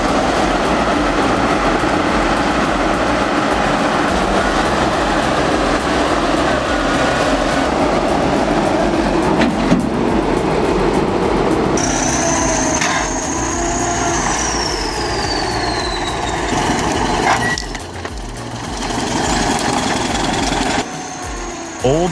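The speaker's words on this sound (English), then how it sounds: "this GTZ crawler with root puller attachment makes light work of heavy jobs" A GTZ crawler with a root puller attachment rips out roots. Its heavy diesel engine rumbles loud and close without a break, with a higher mechanical whine sweeping across the middle stretch.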